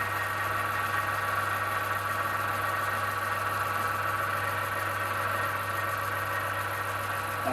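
An acrylic pen blank spins on a lathe while micro mesh sands it, giving a steady, continuous motor hum with an even abrasive hiss, unchanging and fairly loud throughout, with no voices.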